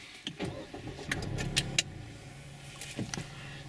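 A Mazda CX-3 is started inside the car, a soft cranking and low idle rumble with a few light key and plastic clicks, fairly quiet and with no talk.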